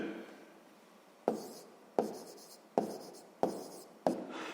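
Pen writing out a fifth-grade math exercise on paper: five sharp strokes land at a steady pace, each trailing off into soft scratching, close and clear over a faint room hiss with no talking.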